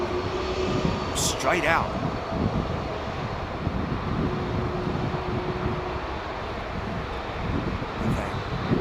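A heavy jet airliner taking off at London Heathrow Airport, its engines producing a steady, loud broadband roar with wind buffeting, while someone talks over it throughout.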